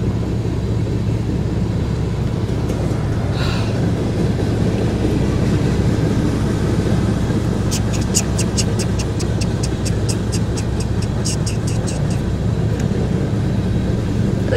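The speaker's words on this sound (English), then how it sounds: "Okay, this train is stupidly long." A very long train rolls past in a continuous low rumble. A run of faint, rapid metallic clicks comes through midway, and no one speaks.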